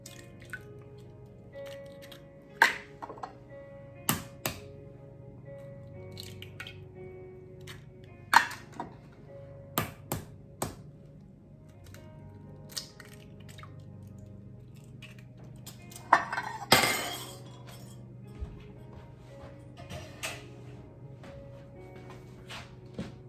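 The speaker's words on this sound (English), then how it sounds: "I'm gonna crack 4 eggs." Four eggs are cracked into a bowl for Jamaican-style carrot cupcakes: sharp, spaced taps of shell followed by soft wet drips and squishes, close up in a quiet kitchen with no talking.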